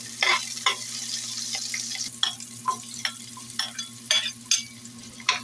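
Onion, garlic and ginger sauté for tinola with a soft, low sizzle, broken by intermittent stirring scrapes and clicks over a steady low hum.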